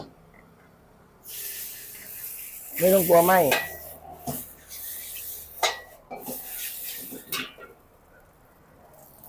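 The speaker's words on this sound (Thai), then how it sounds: "มาดูกันนะการผัดเส้นเส้นใหญ่ราดหน้านะ" Scraping and sizzling bursts as wide rice noodles are tossed and stirred over high heat in a wok, with someone talking briefly in between.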